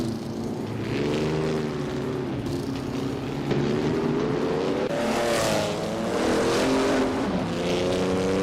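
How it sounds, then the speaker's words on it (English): A 1960 Scarab Indy race car's engine in a racing video game drones loudly and continuously, its pitch rising and falling as it shifts and accelerates, close and alone with no talk. "Young Chubby Panda is driving a 1960 Scarab Indy."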